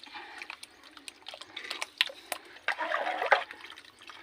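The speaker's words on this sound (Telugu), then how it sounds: "పోయాలి, ఇక ఇట్లా పోసుకోవాలి." Thick vada batter, mixed with salt, poured close by in a home kitchen, giving soft wet splashy slops in short irregular bursts that grow denser toward the end.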